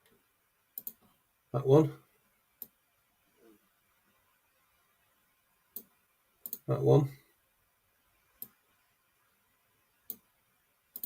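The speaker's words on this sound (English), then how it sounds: "So you're just clicking from camera to camera, really." A computer mouse clicks while switching cameras in multicam editing in Magix Video deluxe 2026. Sharp single clicks are spaced apart in a quiet room, and someone speaks briefly twice between them.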